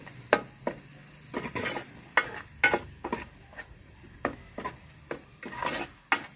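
Ginger, coriander and coconut paste fries in a pan for egg curry, with a steady low sizzle broken by repeated scraping stirs of a spoon, about a dozen brisk strokes, close and moderately loud with no talking.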